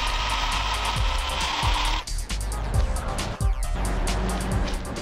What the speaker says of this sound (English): Battery operated chainsaw is not really all that effective